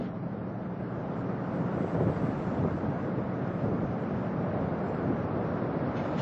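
Space Shuttle Atlantis climbs on its main engines during launch ascent, a distant, continuous low rumbling roar with a broad noisy wash and no voices.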